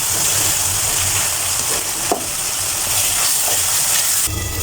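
Spice paste of ginger, garlic, salt and turmeric fries in oil for rohu fish biryani, a steady close sizzling hiss with a few soft scraping stirs.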